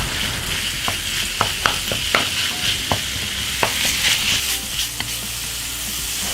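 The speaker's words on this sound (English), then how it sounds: "Now in goes my pork mince." Pork mince frying in a pan with garlic, ginger and chili, a loud continuous sizzle broken by sharp clacks of a utensil stirring and scraping the pan.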